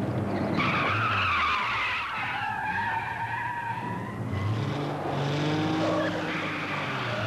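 A car brakes hard with its tires screeching in long, loud, wavering squeals across the whole stretch, with engine noise underneath and no talking.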